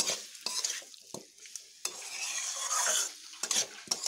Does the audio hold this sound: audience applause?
no